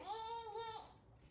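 A voice gives one drawn-out, wavering bleat imitating a goat, close to the listener, then falls away into quiet.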